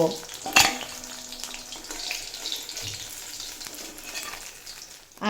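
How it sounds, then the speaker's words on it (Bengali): Fish heads frying in hot oil in a pan give a steady, moderate crackling sizzle with a sharp spatter burst near the start, then a softer continuous fry, no voices. "মাছের মাথা খুব ভালোভাবে ভেজে নেওয়া হয়ে গেছে"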